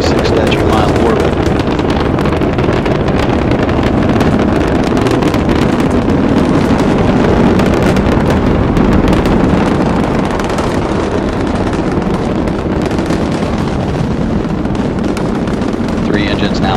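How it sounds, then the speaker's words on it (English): Space Shuttle Endeavour's three engines thunder during the STS-134 launch as a steady, loud, wind-buffeted roar filling the whole stretch, with a voice faintly beneath it. "Three engines now throttling down as Endeavour passes through the area of maximum dynamic pressure on the vehicle in the lower atmosphere."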